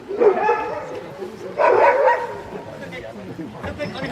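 An Alaskan Husky sled dog at Denali gives two loud, close barks or yelps in short bursts, with people talking nearby and kennel chatter in the background.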